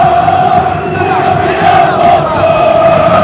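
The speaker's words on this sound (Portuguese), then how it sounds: "A torcida do São Paulo, mesmo menor número, fica cantando, gritando bastante" São Paulo supporters chant and shout in unison at a Brazilian league football match against Santos in a stadium, a loud, steady, sustained crowd roar with sung tones running throughout.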